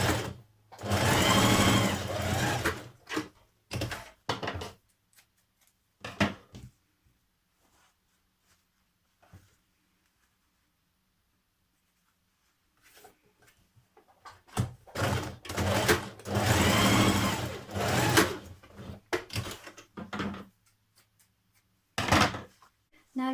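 A sewing machine stitching the facing seam of a New Look 6145 spring dress, running in two long bursts separated by a quiet pause with short clicks and handling noises.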